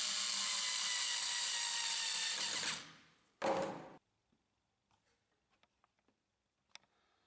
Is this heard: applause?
no